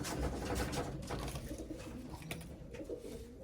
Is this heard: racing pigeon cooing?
yes